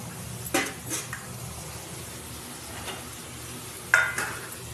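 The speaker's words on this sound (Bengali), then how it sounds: "এর মধ্যে এবার আমি আলুগুলোকেও দিয়ে দেবো।" Potatoes frying in a pan of oil, a low steady sizzle with a few sharp scrapes of a spoon stirring against the metal, the clearest knocks near the start and again toward the end.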